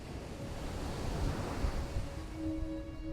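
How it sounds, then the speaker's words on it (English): Ocean waves roll and break onto a sweeping golden beach on the Western Australian coast, a steady wash of surf, close and fairly loud, with no voices. "rolling waves break onto sweeping golden beaches"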